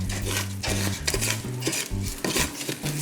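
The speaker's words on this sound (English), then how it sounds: "I'm going to scrape down the sides of this so we get more quinoa on the bottom of the pot" A utensil scraping quinoa down the sides of a cooking pot, several quick rasping strokes with light metallic knocks over a faint sizzle, close and moderately loud, no talking.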